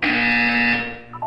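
A harsh electronic buzzer in the video game Portal 2, one loud sustained nasal buzz lasting under a second and then cutting off abruptly, with a brief tonal blip right after.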